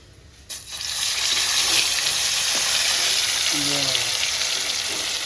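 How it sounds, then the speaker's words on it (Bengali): Fish dropped into hot oil in a wok bursts into a loud, steady hiss of frying that starts abruptly after a brief quiet moment and continues close up, with a faint voice briefly underneath. "মাছগুলো ভাজি।"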